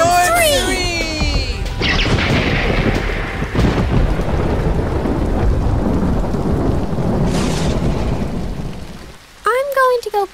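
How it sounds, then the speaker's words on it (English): Thunderstorm sound effect in a Pokemon comic fandub: a loud, sustained crash and rolling rumble of thunder over heavy rain, with brief voices at the start and end. "With the power of thunder!"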